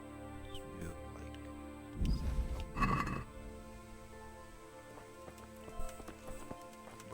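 A horse's hooves clip-clop in the medieval video game Kingdom Come: Deliverance, quiet and steady, swelling into a louder thudding stretch midway, over faint sustained background tones.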